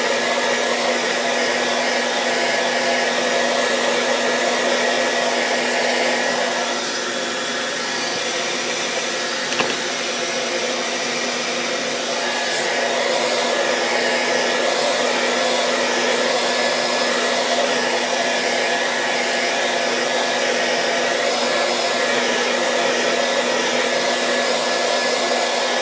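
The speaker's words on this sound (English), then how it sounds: "use a blow dryer on a low setting." A blow dryer runs steadily on a gentle setting, a constant close whooshing hum with a brief faint knock partway through.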